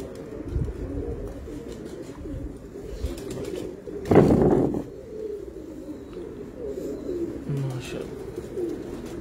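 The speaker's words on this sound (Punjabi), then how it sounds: "ਸ਼ਾਹਕਾਰ ਕਬੂਤਰ ਆ" Domestic breeding pigeons cooing at a fancier's loft, a steady low murmur of coos through most of the stretch with a louder burst in the middle and people talking softly over it.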